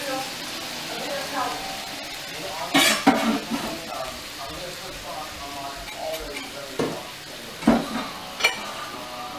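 Scallops stir-fried with spring onions in a pan give a moderate sizzle with occasional clatters of utensil against pan, while people talk over the cooking.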